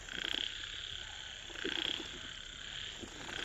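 Large frogs croak beside a freshly watered field, with rhythmic pulsing calls repeating every second or so above a continuous background chorus, moderately distant and without talk.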